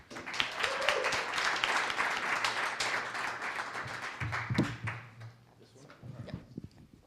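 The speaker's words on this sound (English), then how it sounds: "Give him a round of applause." Audience applause for a presenter at a tech industry talk: a broad wash of clapping that swells for several seconds and then fades, with low murmuring and a few louder claps near the end.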